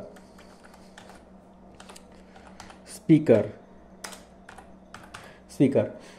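Keys clatter on a computer keyboard while entering text in an Excel spreadsheet, in scattered soft clicks with two louder bursts of rapid taps; a voice speaks quietly at times.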